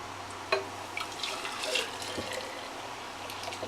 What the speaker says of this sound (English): I think we can probably go ahead and pour it now.